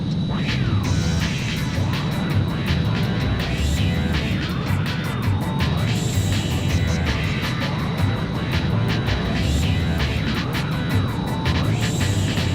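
An F-16 fighter jet fitted with canards flies in the Ace Combat 3 video game, a loud sustained engine roar with sweeping whooshes and layered game effects, with no talking.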